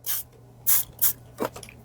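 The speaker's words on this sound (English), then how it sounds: "So I spray" A trigger spray bottle mists water onto a vintage Saran wig on an Ideal Sara Ann doll, giving four short hissing bursts spaced irregularly, close and crisp over a faint low hum.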